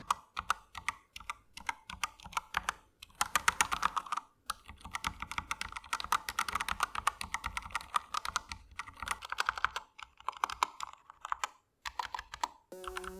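Steady, fast typing on a Bloody S98 mechanical keyboard with quiet linear red switches, soft muted keystrokes in quick runs with short pauses, close and quiet.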